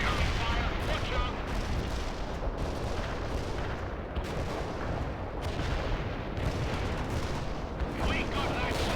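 Battle sounds from the real-time strategy game World in Conflict, with an armored personnel carrier returning fire: dense, continuous bursts of gunfire and booming blasts, loud and unbroken, with game voices mixed in.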